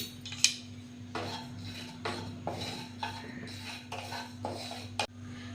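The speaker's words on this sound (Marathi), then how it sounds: "आता आपण जिरं भाजून घेऊया. जिरा आपण 1 चमचा भाजून घ्यायचा आहे." Cumin seeds dry-roast in a pan, stirred with a metal spoon that scrapes and clinks against the pan in a steady series of strokes, close and moderately quiet over a low hum.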